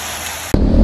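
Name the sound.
sudden heavy rain pouring during motorcycle ride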